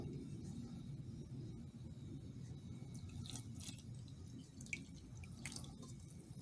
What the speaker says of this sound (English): Now I'm going to add my milk